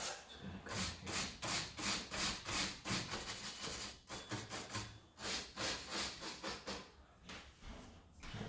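A bristle brush scrubs the tuning pins of an old Steinway piano in quick, rhythmic strokes, a soft close rasping that rises and falls without pause.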